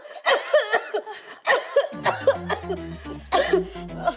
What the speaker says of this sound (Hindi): हमें बहुत खांसी हो रही है